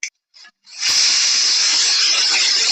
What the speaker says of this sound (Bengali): এবার ঢাকা দিয়ে 4-5টা সিটি হতে দেব।